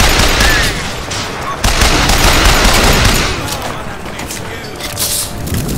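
Rapid gunfire in Bioshock Infinite, dense overlapping shots forming a loud, continuous fusillade that eases slightly toward the end, with no talk over it.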